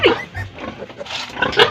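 A pig oinks and grunts repeatedly at close range on a Philippine island farm where a sow has just given birth, with uneven bursts of snorting calls.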